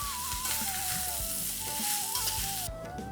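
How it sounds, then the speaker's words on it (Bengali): Beetroot pieces frying in a pan, a dense continuous sizzle with occasional stirring scrapes and a faint tonal hum running underneath, close and steady. "একটু ভাজা হয়ে গেলে আঁচটা কমিয়ে ঢাকা দিয়ে রান্না করতে হবে"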